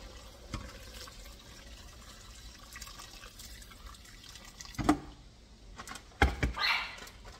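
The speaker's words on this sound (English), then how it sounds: "And we're gonna add water." Water is added to a pot of Mediterranean chicken pasta, a quiet trickle and splash from the tap with a few brief louder pours and clunks near the end, faint and close.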